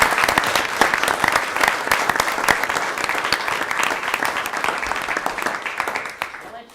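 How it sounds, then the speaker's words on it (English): An audience at a board of education meeting gives a loud round of applause for student Science Olympiad competitors, dense clapping with scattered voices that tapers off near the end. "Let's give these gentlemen a round of applause."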